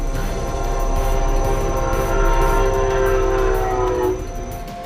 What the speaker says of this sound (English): A near miss between that high-speed train and a pickup truck in South Florida is caught on camera.